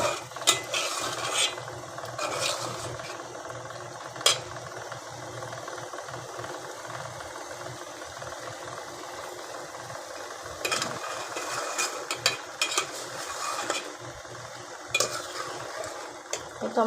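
Chicken sautéing in a pan, with a steady low sizzle and scattered scrapes and clinks of a spoon stirring against the metal, all without any voices.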